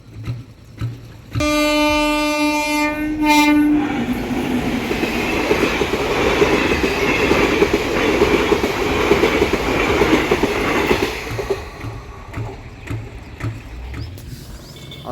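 A train rolls past a closed village railway level crossing: a loud horn blast opens, then a heavy, close rumble with rhythmic clatter of wheels over rail joints that fades as the cars pass, with no talk.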